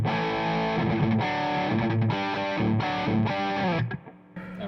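PRS SE CHLEO electric guitar on the bridge humbucker with distortion engaged, playing loud sustained chords in several bursts, the last one cut short by a brief gap before another strum.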